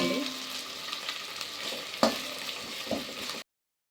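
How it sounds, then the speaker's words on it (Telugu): Masala paste frying in a pan for pulao, a steady moderate sizzle with occasional sharp sputters and pops, including one distinct crackle midway, before cutting to silence. "పచ్చివాసన పోయేదాకైతే వేయించుకోవాలి దీన్ని. పటా అంటుంది కదండి."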